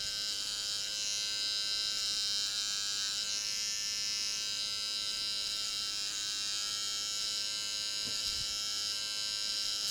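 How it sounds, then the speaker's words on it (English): An electric hair clipper buzzes steadily and continuously up close while cutting a man's hair into a disconnected side part with an undercut, with no talking. "touch it to the scalp and let the clipper do the work"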